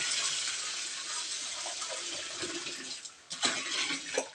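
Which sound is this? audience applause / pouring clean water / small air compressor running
pouring clean water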